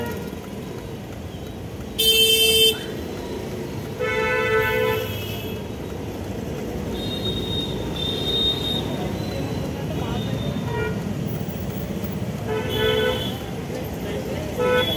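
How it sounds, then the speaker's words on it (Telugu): Hyderabad city traffic, with several sharp car and vehicle horn blasts cutting through a steady rumble of engines, some brief and some held for a second or more, loud and close. "అల్లాడిస్తుంది హైదరాబాద్ ట్రాఫిక్."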